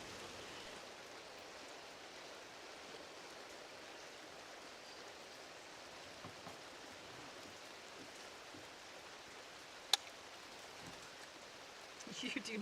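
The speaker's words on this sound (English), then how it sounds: "It's raining." Steady rain falls on a camping spot around a parked Toyota 4Runner, a constant soft hiss of drops heard from inside, with one sharp tap and faint movement near the end.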